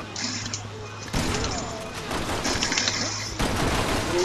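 Rapid-fire gunshots in Resident Evil 6, sustained fast shooting with crashing impacts, loud and continuous over game sounds, with a brief pause before a second burst.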